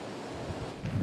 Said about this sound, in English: Winds whipped the Whitsundays.